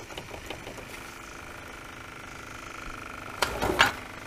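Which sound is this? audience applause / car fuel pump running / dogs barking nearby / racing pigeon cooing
car fuel pump running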